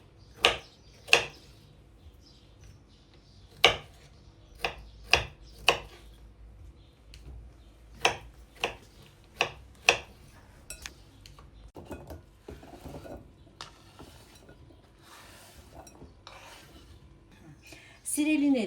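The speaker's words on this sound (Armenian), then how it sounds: "Այժմ կտրատում ենք տանձերը։" A knife cuts pears on a board in a series of crisp, sharp taps, some spaced and some in quick runs, close and clear against a quiet background.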